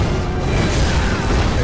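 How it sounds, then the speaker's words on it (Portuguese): An explosion in the video game Dark Souls III gives a loud, sustained roaring boom that fills the whole moment with dense rumbling noise. "que bonito, explosão."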